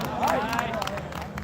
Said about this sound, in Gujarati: તમારી તાળીઓ